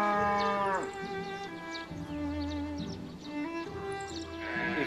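Cows low in a long, drawn-out moo that rises and falls across the whole stretch, fairly close and loud, with no talk over it.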